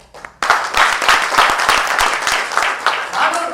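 An audience at a humorous speech contest semifinal bursts into applause to welcome a club president, loud and steady after a brief quiet start, with some voices mixed in.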